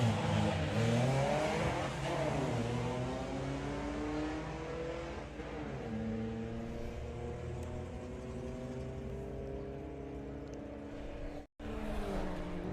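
VW drag racing cars, including a VW Polo, accelerate hard down the strip at Santa Pod, engines climbing through rising revs and gear changes, loud and close, then cutting off abruptly near the end.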